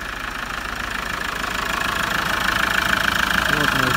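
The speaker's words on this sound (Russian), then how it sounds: "Вот наш двигатель." A Hyundai Grand Starex engine runs steadily after a turbo repair, a continuous mid-pitched idle with a faint knocking rhythm that rises slightly in loudness toward the end.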